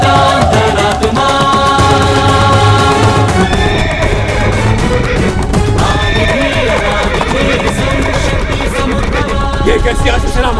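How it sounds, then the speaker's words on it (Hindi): A cavalry of horses neighs and whinnies with clip-clop hooves, loud and continuous, set within a dramatic musical score on a mythological Hindi TV serial. "ये कैसी अश्व सेना हमारी ओर बढ़ रही है?"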